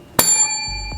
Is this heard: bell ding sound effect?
yes